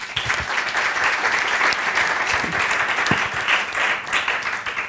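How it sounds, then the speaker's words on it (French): At the closing session of a French conference, the audience applauds with a sustained wash of clapping from many hands, steady for about five seconds. "Je crois qu'ils méritent à nouveau vos applaudissements."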